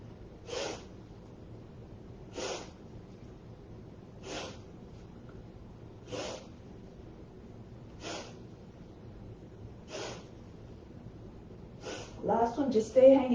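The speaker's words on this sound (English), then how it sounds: "Keep breathing vigorously to oxygenate the blood and aerate the lungs." Forceful yoga breaths repeat in an even rhythm, seven sharp bursts spaced about two seconds apart, close and fairly loud, followed at the end by a brief voice speaking.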